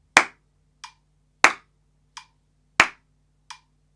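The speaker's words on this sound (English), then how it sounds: "Now what we can do is we can introduce 2 claps for the 4 count." Crisp hand claps fall on beats one and three of a 4/4 count, alternating with softer snapping ticks between them. Six sharp isolated hits land at an even, steady tempo in an otherwise quiet room.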